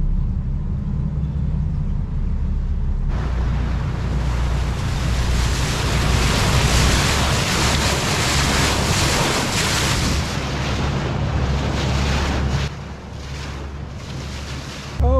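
A boat underway at sea off the Italian coast, with waves and surf rushing and wind buffeting the microphone in a loud, steady roar. A brief lull comes near the end.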